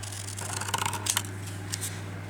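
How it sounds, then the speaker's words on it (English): Scissors snip through material being cut thinner for a stitched wonky house craft, a few quick crisp cuts clustered together over a steady low hum, close and fairly quiet. "And cut it up here a bit thinner."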